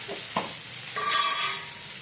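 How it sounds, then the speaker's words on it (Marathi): Okra frying in a pan is stirred with a utensil, giving a steady close sizzle and a brief scraping stir that swells loudly for about half a second before settling back. "मीठ टाकून झाल्यानंतर परत एकदा हलवून घेऊया"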